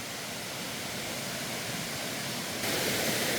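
Steady, dense roar of a waterfall, constant and full, with no voices.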